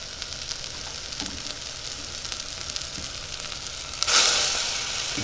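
A ladle of stock poured into a hot, already dry pan holding seafood bursts into a loud, steady sizzle partway through. Before that, there is only quiet frying and stirring.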